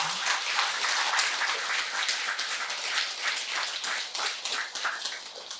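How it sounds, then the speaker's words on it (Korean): A congregation gathered for a Buddhist temple dedication ceremony claps for the head monk, a lively round of applause that thins slightly toward the end. "우리 주지스님한테 박수를 한번 부탁드렸으면 좋겠습니다"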